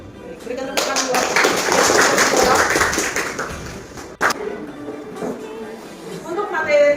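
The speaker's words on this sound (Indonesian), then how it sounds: "Berikan tepukan buat." A classroom of students applauding their teacher's call: dense, fairly loud clapping builds from about one second and holds for several seconds before thinning out, followed by scattered taps and quieter room sound.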